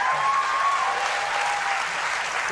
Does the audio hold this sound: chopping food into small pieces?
no